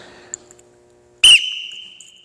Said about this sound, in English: when I blow the whistle, just start the entire exercise